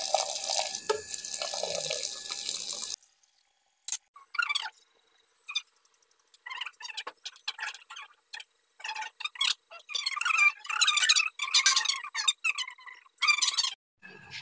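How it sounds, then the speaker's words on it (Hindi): Tap water runs over drained rice being rinsed to stop it overcooking, for a large 5 kg batch of mutanjan sweet rice made at home; a steady close splashing stream at first, then scattered drips and clinks. "यहाँ पर हम खोल देंगे जी पानी, ताकि इसकी ओवर कुकिंग ना हो।"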